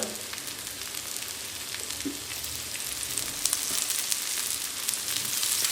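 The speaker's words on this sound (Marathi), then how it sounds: "आणि या खालच्या बाजून पण मस्त आपण हे तळून घेणार आहोत" Slices of suran, elephant foot yam, shallow-frying in oil in a pan, giving a steady soft sizzle with scattered crackles and pops that grow slightly busier toward the end.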